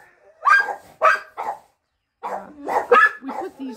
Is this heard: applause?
no